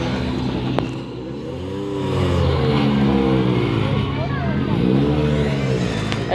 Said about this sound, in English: There's another one coming, is that the Ford Escort?